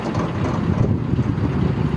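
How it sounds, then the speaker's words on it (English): A narrowboat's engine runs at normal revs, a steady low rumbling drone with some wind noise, continuous and fairly close, with no voices. "I'm going to do some normal revs."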